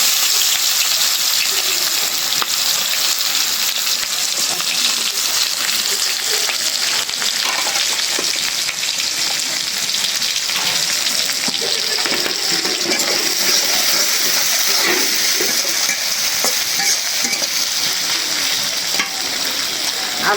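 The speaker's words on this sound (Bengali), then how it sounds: "এখন হলো আলু ভাজবো এই মাছ ভাজা তেলে" Sliced potatoes fry in oil left over from frying fish, giving a loud, steady, crackling sizzle that runs unbroken from start to finish with no voices.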